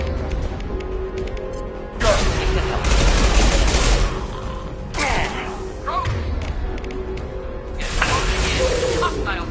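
Weapon fire during combat in the Mass Effect 2 video game: bursts of rapid, loud gunfire and crashing impacts come in several waves, with a voice speaking between them.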